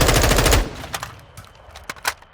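Gunfire from a rifle with a Delta 4 optic in Modern Warfare II, a loud rapid automatic burst for about half a second, followed by a few scattered single shots and clicks.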